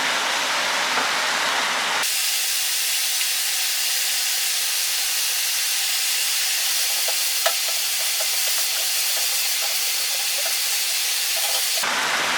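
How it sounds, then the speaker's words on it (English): A loud, continuous rushing hiss and bubbling of an electric kettle coming to a boil, steady throughout with a faint rattle partway. "That's my kettle boiling"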